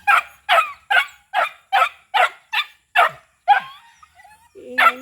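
A dog barks loudly and close by in a steady run of about nine sharp barks, followed by a pause, faint yelps and a brief honk-like call near the end.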